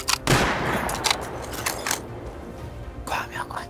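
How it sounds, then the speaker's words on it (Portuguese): Gunfire in the online survival game Rust crackles in sharp, loud reports: one early shot, a few spaced single cracks, then a quick cluster of bursts near the end, with quieter gaps between. "É tiro, é tiro!"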